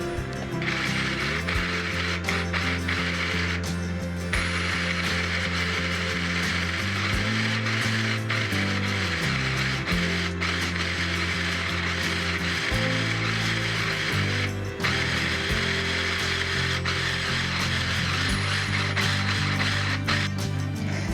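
A food processor grinds almonds into almond butter, a loud continuous mechanical whir with a shifting rattling hum that churns steadily throughout, close by and with no speech.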